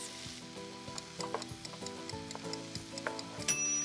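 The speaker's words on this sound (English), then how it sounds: "I'm gonna stir these veggies around and cook them until they start to soften" Sliced jalapenos and vegetables sizzle in a pan while being stirred, with a steady soft frying hiss broken by repeated clicks and scrapes of a utensil against the pan, close and moderately quiet.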